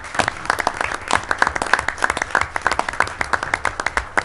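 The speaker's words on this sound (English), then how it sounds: "I'd ask a round of applause for his great years of service to the department." A round of applause at a city council meeting honoring a retiring police captain: a modest group clapping in a room, individual claps clearly distinct and irregular, fairly close and steady throughout.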